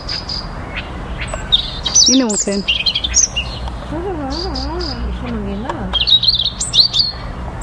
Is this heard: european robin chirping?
yes